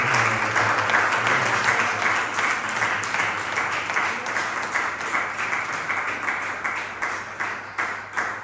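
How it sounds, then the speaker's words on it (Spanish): A church congregation applauds in a sustained, dense wash of clapping with a steady tone humming underneath, gradually thinning toward the end. "Dale un fuerte aplauso a Cristo Jesús"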